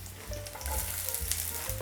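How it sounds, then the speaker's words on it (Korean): Chopped garlic and shallots sizzle steadily in generous hot oil in a pan, a dense, continuous frying hiss up close with no voices. "여기에 향을 낼 수 있는 마늘이랑 샬롯 먼저 넣어 볼게요"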